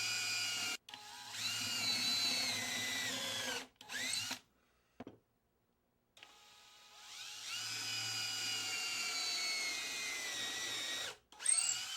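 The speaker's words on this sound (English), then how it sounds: "drill 1/4-inch holes along the top of the assembly" A power drill whirs in several bursts, biting into wood as it drills quarter-inch holes and winding down between runs, with short pauses and one longer silent gap.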